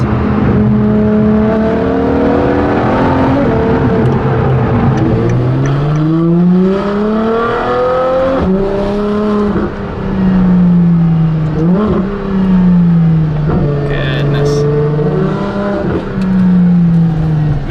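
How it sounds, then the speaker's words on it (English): A Ferrari LaFerrari engine and exhaust revving hard, loud and close, the pitch climbing and falling through several sweeping rises with a short dip between pulls. "The exhaust tips, of course, right around the very back of the car. But this sound, intoxicating or what?"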